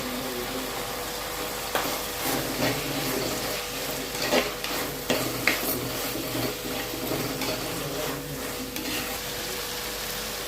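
Tomatoes with turmeric powder sautéing in a pan for a crab gravy, a steady sizzle under repeated scraping stirs of a spoon at close range, no voices.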